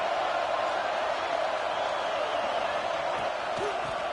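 A stadium crowd in a Michigan versus Florida State college football video game roars on without a break, a broad, sustained wall of noise that sounds distant yet fills the stands.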